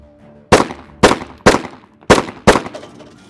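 Five sharp pistol shots crack out at a target during fast-draw training, loud and close, in an uneven rhythm over about two seconds, each followed by a short echoing decay.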